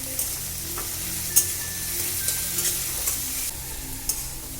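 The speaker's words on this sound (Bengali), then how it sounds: "এবার দেবো একটু টমেটো কুচি। দিয়ে এটাকে একটু ভালো করে ভেজে নেব।" Chopped tomato frying with onion and garlic in a pan, a steady close sizzle broken by occasional utensil taps and scrapes as it is stirred, with no talking.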